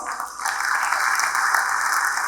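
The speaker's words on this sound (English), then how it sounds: "he needs a great round of applause" Dense, steady applause from a large crowd at a university campus inauguration ceremony, loud and continuous, swelling slightly after the start.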